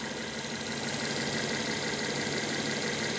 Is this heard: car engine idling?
yes